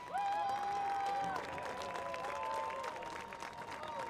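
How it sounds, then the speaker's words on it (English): Crowd applause at a high school all-star football game in Michigan, a faint, distant wash of clapping mixed with a sustained tonal hum and some cheering in a large outdoor venue. "One more round of applause for your 2026 East All-Stars."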